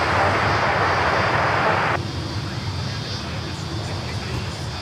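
Airbus A220 jet taking off from runway 16 right at Sydney Airport, a steady broad engine roar that drops slightly in intensity partway through, heard from a distance.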